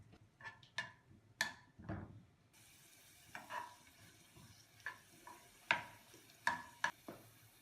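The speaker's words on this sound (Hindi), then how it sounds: "फ्राई पैन में 3 टेबलस्पून तेल डालकर इसमें अदरक लहसुन डालें" Ginger and garlic frying in three tablespoons of oil in a frying pan, with a soft steady sizzle and intermittent sharp clinks and scrapes of stirring against the pan, close and fairly quiet, without talk.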